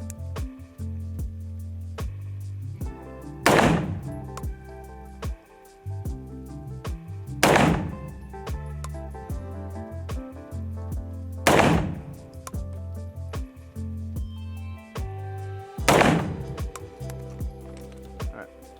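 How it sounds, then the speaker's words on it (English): Four rifle shots fired at 25 yards through a ZF5 scope, each a sharp loud crack spaced roughly four seconds apart, with quieter handling and mechanical clicks between them. "We're gonna shoot 4 shots and see what we can find."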